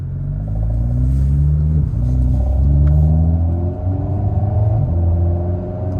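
An Alpine A110 1.8 with a seven-speed EDC dual-clutch gearbox accelerates hard from inside the cabin, its engine note climbing steadily and dipping briefly twice as the gearbox snaps through upshifts, loud and continuous with no talk.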